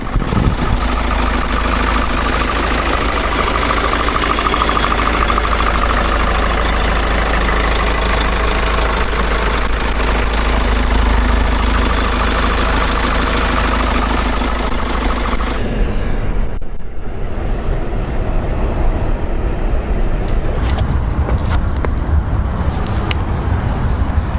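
A Kia K5 second-generation 1.7 diesel engine idling steadily with a low, even rumble and clatter, close up and loud, continuing without a break.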